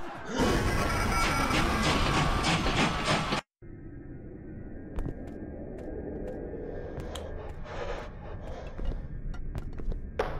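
In the horror game A Dark Place 2, a train roars past loudly for a few seconds, then cuts off abruptly. Quieter rumbling and scattered clanks follow, with no speech.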